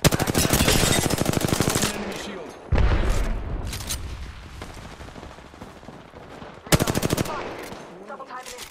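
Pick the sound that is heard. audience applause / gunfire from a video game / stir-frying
gunfire from a video game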